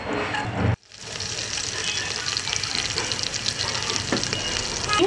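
Chopped green chilies and jeera hit hot desi ghee in a pressure cooker, a sharp cut near the start then a steady, close, loud sizzle and crackle that continues to the end.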